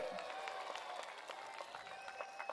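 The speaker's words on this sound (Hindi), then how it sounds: "जोर से ताली बजाइए दोनों के लिए।" A crowd at a political rally in Secunderabad claps steadily for a few seconds, a dense, even patter of applause heard at moderate distance with no speech over it.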